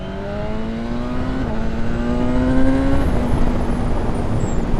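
A 2025 BMW M1000R motorcycle engine hums steadily under riding wind noise, with a rising whine that shifts pitch as the bike accelerates through gears, loud and close.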